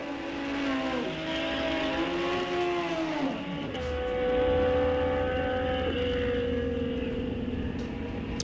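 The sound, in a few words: drag racing vehicle going down the track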